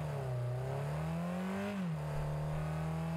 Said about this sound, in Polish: przed tym jeszcze obiecany dźwięk silnika